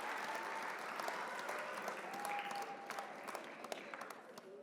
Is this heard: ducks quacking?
no